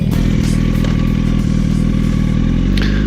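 A motorcycle rides through town streets in Yerevan, Armenia, its engine droning steadily and loudly up close with a mid-pitched running note, some clatter and a slight rise in revs near the end, with no voices.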